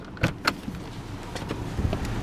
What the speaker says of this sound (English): Put the automatic driver's side window down, pop the trunk,